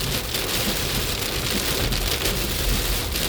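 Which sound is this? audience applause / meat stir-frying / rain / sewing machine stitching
rain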